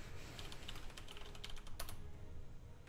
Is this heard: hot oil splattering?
no